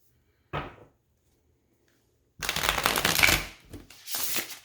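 Tarot cards being shuffled up close: a brief riffle, a pause, then a longer rustling burst followed by one more short shuffle.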